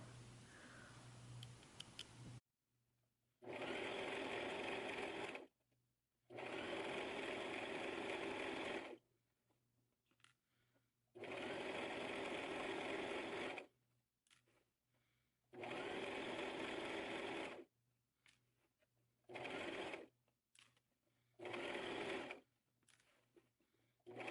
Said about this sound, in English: I'm just going to sew all the way through